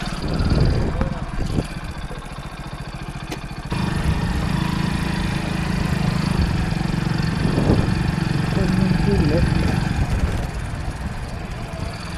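A small motorbike engine buzzes steadily at close range, growing louder partway through and then holding a constant droning tone, with someone talking over it at times.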